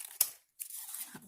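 Scissors roughly cutting around a paper jelly print: two or three brief, close snips and rustles separated by a short silent gap.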